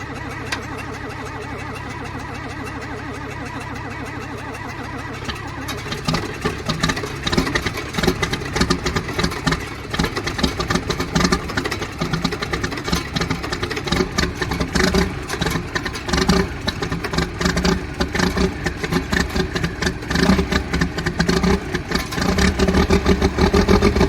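A farm tractor engine turns over and catches, then settles into a steady, loud, close idle with a throbbing low chug that runs on without a break.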